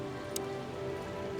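Steady rain falls in the video game Chicken Police, a constant even hiss of drops with a faint low hum beneath and one brief brighter tick partway through, with no talking.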